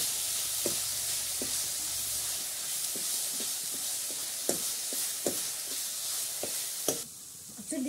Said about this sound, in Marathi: तेलात घालून घ्यायचं त्यांना